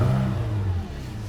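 A Porsche 911 GT3 RS 4.0 engine revs loudly with a deep rumbling growl that eases off slightly toward the end.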